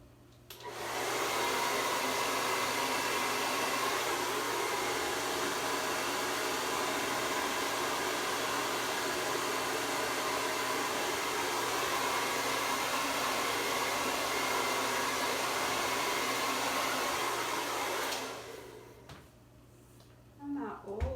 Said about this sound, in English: something with the dryer made it go a little haywire